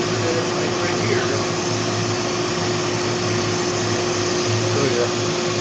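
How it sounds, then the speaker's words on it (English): A vacuum cleaner fitted with a dust-collection attachment drones steadily with a constant hum and airflow hiss, running without pause. "this device I can hook up to my vacuum cleaner"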